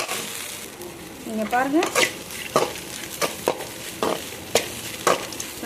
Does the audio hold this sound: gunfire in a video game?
no